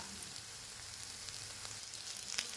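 Spice paste fries gently in a pan over a low-to-medium flame, giving a faint, even crackling sizzle with small pops, quiet and close with no speech.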